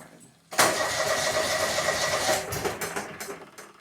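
A Cub Cadet 3205 garden tractor engine cranks and catches after a short quiet moment, then putters and idles steadily, loud and close, with no talking.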